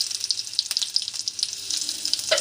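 Whole black peppercorns sizzling in hot oil, a close, steady bright crackle with fine spitting pops throughout and no voices.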